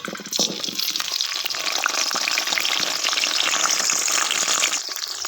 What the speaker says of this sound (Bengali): এবার এই তেলের মধ্যেই আমি আলুগুলোকে ভেজে নেব।